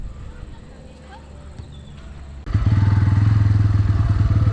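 A Bajaj Pulsar N160 motorcycle starts up after a quiet stretch of outdoor ambience, then settles into a loud, steady, rhythmic engine thrum close by.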